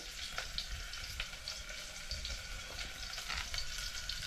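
Onions frying for a Malvani crab curry, a steady dense sizzle with occasional louder crackles and stirring scrapes, close and continuous with no talking.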